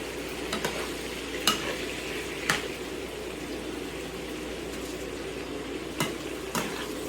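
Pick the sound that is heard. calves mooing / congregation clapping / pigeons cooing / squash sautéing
squash sautéing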